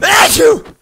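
A single loud, close sneeze bursts out, followed by a voice speaking briefly.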